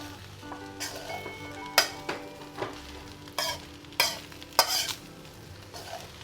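Fried rice sizzles steadily in a pan while a spatula stirs it in sharp, scraping strokes every second or so, close and loud with no voices.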